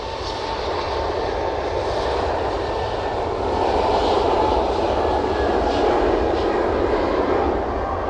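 Norwegian airliner arriving at Manchester Airport, a loud continuous jet engine roar that builds a little midway and stays dense and close throughout, with no talking.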